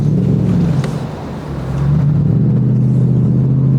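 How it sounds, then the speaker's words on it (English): A Lexus SC 430 convertible's engine rumbles steadily and close, a deep low drone that dips briefly, then swells back to a strong, even growl. "And hearing the engine, it's just absolutely magnificent."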